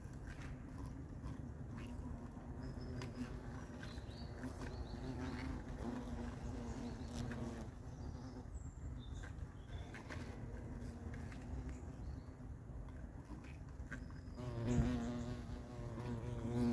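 Honeybees buzz steadily around an apiary hive, a dense continuous hum of many insects close by, with individual bees droning past now and then and no talk.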